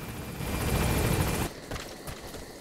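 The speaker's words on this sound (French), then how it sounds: "Je vois déjà l'hélico qu'on voyait déjà tout à l'heure" Helicopter in the video game Metal Gear Solid V, a loud whirring rotor drone that cuts off abruptly midway, leaving quieter scattered game noise.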